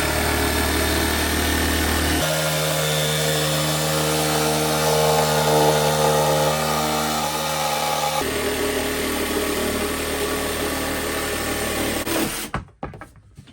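A Parkside jigsaw cuts through MDF with a loud, continuous buzzing rasp whose tone shifts a couple of times before the blade winds down near the end, with no talking.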